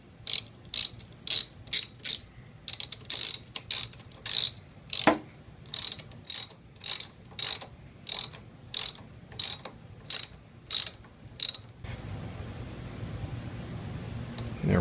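A ratchet tightens a handlebar bolt on a Yamaha FJR 1300 ES motorcycle in quick bursts of sharp clicking, about twenty short runs, close and alone, before a softer hiss takes over at the end.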